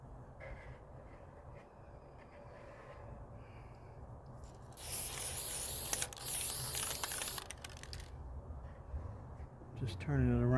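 Spray paint hisses onto a motorcycle helmet during a restoration, a steady close burst lasting a few seconds between quieter stretches of faint background sound.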